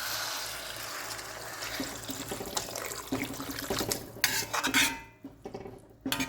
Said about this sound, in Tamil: இப்போ தேவையான அளவு தண்ணி சேர்த்துடலாம்.